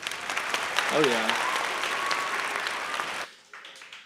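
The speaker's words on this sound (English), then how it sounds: "Give one round of applause for yourselves." A crowd at a live 4/20 music show applauds loudly for about three seconds, with a voice talking over it, before the clapping cuts off to near quiet.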